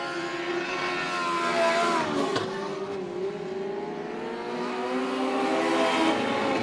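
Race cars roar around a short oval track, several engines overlapping in a sustained loud drone with rising and falling pitch as they come off the turns, one car sliding sideways out of turn four.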